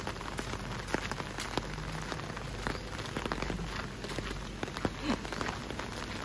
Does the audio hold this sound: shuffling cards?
no